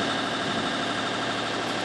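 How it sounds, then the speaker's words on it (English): An anchored boat's engine idles in Hawke Bay, a steady low rumbling drone that holds constant throughout, with no voices over it. "You can hear the engine ticking over."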